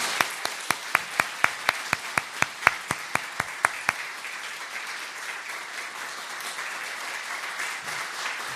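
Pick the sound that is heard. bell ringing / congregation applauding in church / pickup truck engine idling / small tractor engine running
congregation applauding in church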